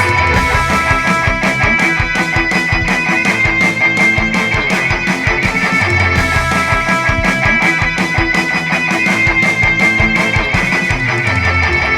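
Pop punk pre-chorus groove with the hi-hat dropped out and drum fills pushed up, dense and loud throughout with steady pounding kick and snare hits and busy tom fills under a full band mix of distorted guitars.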